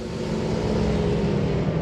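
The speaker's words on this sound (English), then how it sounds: "I hear them coming, and I can hear a Porsche coming" A Porsche race car, an open prototype, roars past on the Road Atlanta track at a classic HSR event, its engine note steady and loud, close by throughout with no talk.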